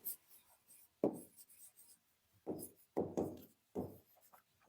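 Chalk or a marker scrapes across a board as a maths exercise is written out, in a series of short, close strokes with brief pauses between them and no talking.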